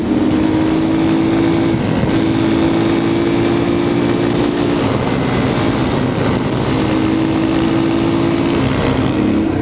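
A Yamaha TTR230 trail bike roars close by on the El Mirage dry lake bed during a wheelie, its loud engine note rising and holding in long sustained pulls with brief dips between.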